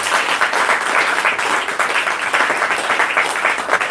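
A church congregation applauds for Jesus with dense, steady clapping that holds loud and continuous from start to finish.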